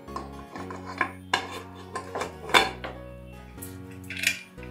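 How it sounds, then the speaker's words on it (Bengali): A metal cake pan is lowered onto a stand inside a pressure cooker, with a series of close, ringing metallic clanks and scrapes spaced irregularly and a brighter clink near the end. "দিয়ে এবার আমি কেকের পাত্রটা এর মধ্যে আস্তে করে বসিয়ে দিচ্ছি।"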